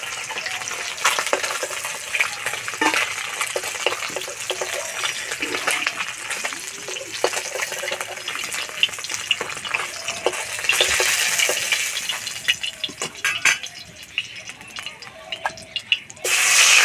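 Tilapia fish frying in oil in a karahi crackles and sputters up close, with irregular pops and stirring scrapes over a continuous sizzle, swelling briefly louder near the end.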